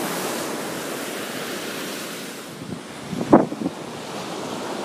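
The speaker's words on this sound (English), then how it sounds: "Sea's a bit stormy today" Ocean waves break on a stormy tropical beach with a continuous loud wash of surf and wind, and a brief louder crash surges about two thirds of the way through.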